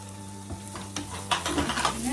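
Mutton masala is stirred and sizzling in a clay pot, a soft hiss under a few scraping spoon strokes over about two seconds, close by with no speech.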